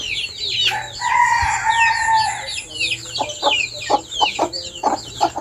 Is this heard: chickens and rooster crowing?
yes